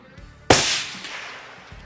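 A single cold bore rifle shot on an outdoor shooting range, one sharp loud crack followed by a trailing echo that fades over about a second.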